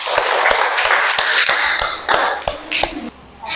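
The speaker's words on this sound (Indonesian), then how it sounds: "Kasih tepuk tangan dulu." A classroom of students gives a short round of applause, a scattered run of sharp hand claps that thins out toward the end, with faint voices underneath.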